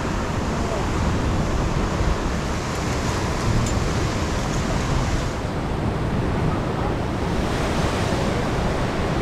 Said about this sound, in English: Two waves coming.